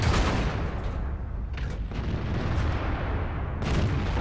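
A tank cannon fires in the World of Tanks video game, a loud booming blast that opens the clip over dense, continuous battle rumble, with further heavy bursts near the end.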